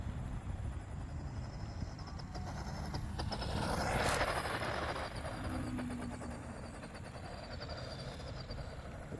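A running motor with an odd noise in it, a steady broadband rumble and whine that swells to a louder peak near the middle before settling back, with no voices.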